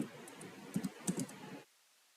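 Rapid typing on a computer keyboard, a dense run of quick key clicks with a few louder taps, continuing for about a second and a half before stopping abruptly into near silence.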